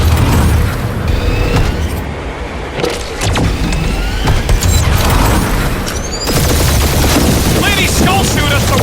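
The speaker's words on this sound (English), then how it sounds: "Keep up the barrage. They will not survive it." Sustained gunfire barrage and booming impacts during a fight in Marvel's Guardians of the Galaxy, dense and loud throughout with mechanical clatter and brief voice bits.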